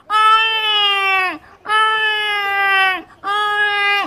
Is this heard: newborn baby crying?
yes